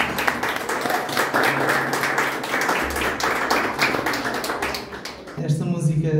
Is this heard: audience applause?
yes